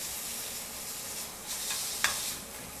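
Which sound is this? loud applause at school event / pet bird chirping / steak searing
steak searing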